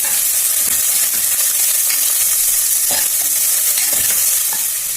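Onion, garlic and green chilli fry loudly in a pan for a festival pongal dish, a dense continuous sizzle with scattered stirring scrapes and no talking.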